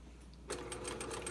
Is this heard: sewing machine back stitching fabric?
yes